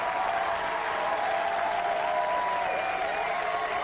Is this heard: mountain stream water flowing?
no